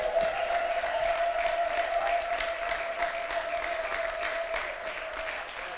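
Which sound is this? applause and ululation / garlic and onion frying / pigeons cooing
applause and ululation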